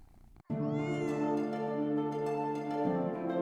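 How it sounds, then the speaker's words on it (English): A cat gives one long, loud, drawn-out meow close by after a short soft sound, the tone rising at first and then holding steady. "They've got a meow for everything."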